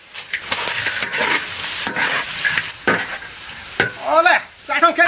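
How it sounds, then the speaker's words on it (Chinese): Pork belly stir-fried in a giant wok, with repeated scraping and stirring strokes over a steady sizzle, loud and close, broken by brief clanks of the utensil against the metal. "五花肉倒上，翻炒一下，给五花肉上色"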